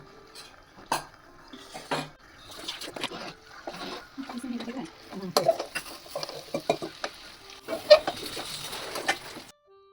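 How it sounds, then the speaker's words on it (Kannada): Sheep intestine (boti) stir-fried with egg in a pan, with spoon scraping and clanking against the cookware in irregular bursts under a low sizzle, while a voice talks intermittently throughout. "ಮೊಟ್ಟೆ ಜೊತೆ ಬೋಟಿ ಚೆನ್ನಾಗಿ ಹೊಂದ್ಕೊಳ್ಳಿ. 1-2 ನಿಮಿಷ ಸಿಮ್ಮಲ್ಲಿಡಿ."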